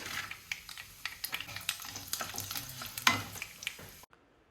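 Urad dal and cashews fry in a pan with light crackling and stirring clatter, close and fairly quiet, ending abruptly in near silence.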